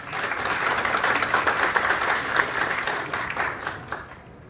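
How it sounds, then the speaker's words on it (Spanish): Loud, sustained audience applause fills a lecture hall at a medical faculty symposium at the Universidad de Cartagena, steady dense clapping lasting several seconds and tapering off slightly at the end. "Un fuerte aplauso, por favor."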